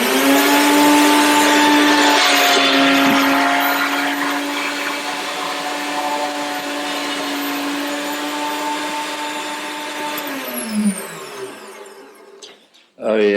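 A meat grinder's motor whines steadily and loudly as it processes raw dog food, easing slightly in pitch midway, then winding down with a few clunks at the end.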